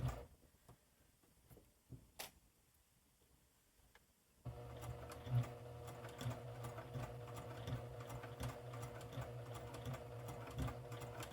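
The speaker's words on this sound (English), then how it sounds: "it helps to keep things in place while you're stitching so that you're not getting your hands up near that needle" A sewing machine stitching along fabric edging, starting with a few faint clicks and handling noises, then running in a steady rhythmic whir for the rest of the clip, close and fairly quiet with no voice.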